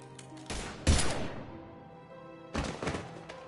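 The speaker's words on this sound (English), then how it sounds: "Now open fire!" Gunshots from a firefight in the video game Mass Effect 3, a couple of loud sharp blasts with reverberant tails, heard alone with no talk.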